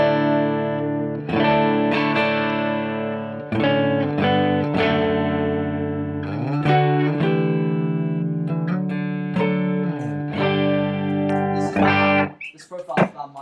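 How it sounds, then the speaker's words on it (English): Electric guitar played through a Kemper profiler using a profile of a Vox AC30 TB amp, sustained driven chords and ringing notes in a continuous loud passage that cuts off near the end. "This is an AC 30 TB."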